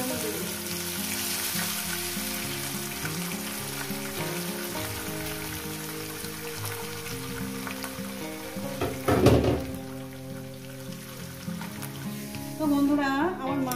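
Fish hiss and crackle as they fry in hot oil, a steady bubbling sizzle throughout with a louder clatter partway through and again near the end, while someone talks over it.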